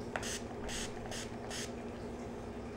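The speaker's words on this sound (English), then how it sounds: "all I do is spray like 3 sprays of it" Makeup setting spray hisses from a spray bottle in four short, evenly spaced bursts, quiet and close, with no talking.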